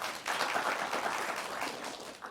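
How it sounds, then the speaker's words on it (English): A college audience claps together in a steady wash of applause, fairly close and even in loudness, with no one talking over it. "Clap if you agree."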